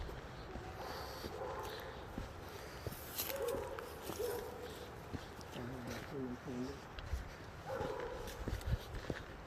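A dog at a campsite near the Rainier trailhead gives short barks and whimpers between stretches of people talking, with wind and footsteps in the background.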